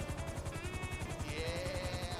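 A rescue helicopter circles above people stranded on a roof, its rotor chop pulsing steadily and loudly throughout with a constant engine whine over it.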